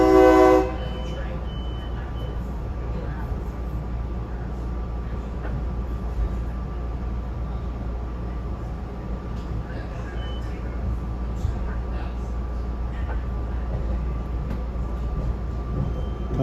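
SEPTA SL5 local commuter train running between Philadelphia and Norristown, heard from inside as a continuous low rumble and hum with a brief horn-like tone at the start.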